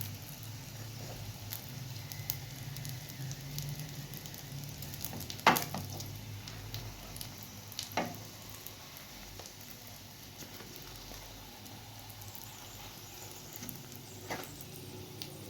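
Soft cheese pastries frying in a pan over lowered heat, giving a faint, steady sizzle with occasional small pops and ticks throughout.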